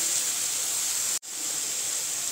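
Ginger, garlic and green chili paste frying in oil makes a steady, close, broadband hiss and sizzle with a brief cut in the middle, without any talking.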